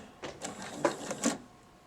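Sewing machine stitching fabric over elastic on a homemade face mask, a few short mechanical whirring bursts with a light rhythmic clatter, close and moderately loud.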